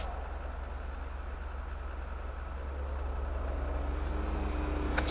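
A train passes in a roleplay video game, a steady low rumble and hum that swells slightly partway through, with a faint tonal whine near the end and no talk.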